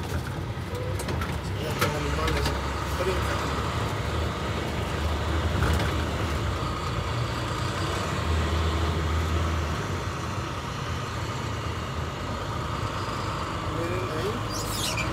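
Small car carrying a load, driving on a road past vineyards and forest, with a steady engine and road rumble throughout, close and continuous, under occasional talk.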